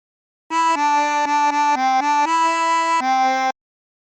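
A harmonica plays the melody of For He's a Jolly Good Fellow as a short phrase of sustained, reedy blown and drawn notes, clear and close with no other sound.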